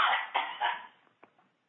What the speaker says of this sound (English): I have the need to cough